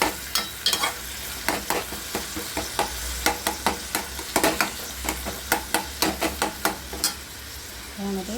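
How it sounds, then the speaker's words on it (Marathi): Onion and tomato sizzle in a pan for a spicy okra dish while a spatula scrapes and taps in a brisk, repeated rhythm. The sounds are close and steady over a continuous frying hiss, with no voices. "टोमॅटोला पूर्ण भाजून घ्यायचं"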